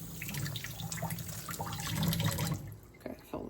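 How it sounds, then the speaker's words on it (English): Running water pours and splashes steadily as a small pump for cleaning out a pysanky egg is filled, with scattered drips and small clatters near the end. "fill the pump with water and blow water into the egg"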